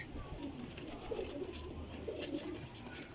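Pigeons cooing softly in low, rolling calls, several birds repeating over a steady background hum.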